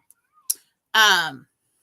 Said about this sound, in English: Is that kitty meowing at you?